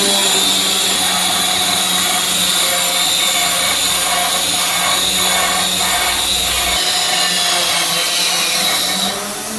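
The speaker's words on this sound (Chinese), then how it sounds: "就直接买了一个这种切割机，专门用来做盆景或者是这种花盆之类的" An electric cutting machine slices through a glass wine bottle, a sustained high whining grind with steady loud intensity, the blade's pitch shifting slightly as it bites, tapering off near the end.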